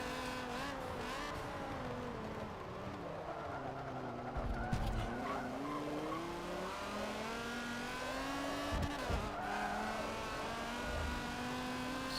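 A race car spinning out in the video game Forza 7, with tires skidding and squealing in long wavering whines over continuous engine drone from several cars, fairly quiet and steady throughout.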